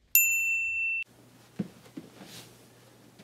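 A single bright notification bell ding rings out clearly with a sustained tone for about a second, followed by quiet background room noise and a few soft knocks.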